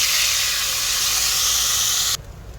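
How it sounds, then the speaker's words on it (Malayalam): Mashed banana hitting hot ghee in a pan, giving a loud, steady sizzling hiss that stops abruptly near the end and leaves a faint low hiss. "അപ്പോൾ ഇതിലേക്ക് നമുക്ക് അരച്ചു വെച്ച പഴത്തിനെയും ഇട്ട് കൊടുക്കാം."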